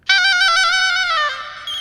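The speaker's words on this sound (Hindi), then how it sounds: "फोन बज रहा है" A phone rings with a bright, harmonic electronic tone, one sustained burst that shifts pitch briefly before cutting off.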